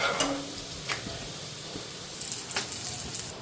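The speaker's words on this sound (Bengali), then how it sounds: "আগে দুটা পরোটা ভাজছি।" Parathas frying in a pan give a quiet, steady sizzle, with a few sharp scraping or stirring clicks scattered through it and no talking.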